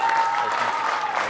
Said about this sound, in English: Huge round of applause for Plitz, guys.